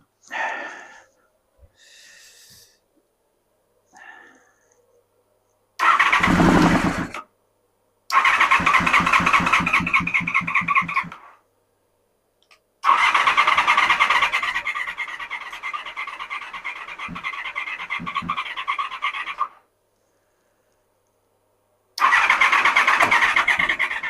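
A Honda VFR400R NC24 motorcycle, being revived after sitting, cranks in several separate bursts, with repeated starter-motor whirring and brief catches at close range inside a garage, separated by silent pauses; no talking.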